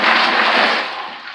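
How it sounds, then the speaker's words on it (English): Cold water pours steadily into a bucket of ice for a Thanksgiving turkey brine on a farm. It makes a continuous broadband rush that stays loud and even for the first moments, then eases slightly, with no talking. "And about a half gallon of water,"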